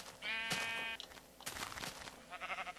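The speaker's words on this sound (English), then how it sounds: "Oh, I see sheep that want to be different colors." Sheep in the video game Minecraft bleat in a loud, quavering cry, with a second, shorter bleat and other game sounds following over about three seconds.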